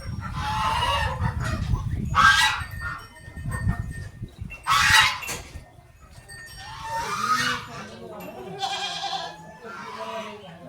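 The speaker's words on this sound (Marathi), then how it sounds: "हे बदक बघा कसे वरडतात" Farm ducks call in loud, harsh bursts, repeating every second or two with short gaps, while people talk nearby between the calls.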